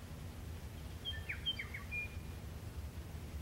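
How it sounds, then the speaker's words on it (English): A few faint, distant bird chirps in the countryside rise briefly over a quiet, steady outdoor hum, then fade back into the background. "The bird song"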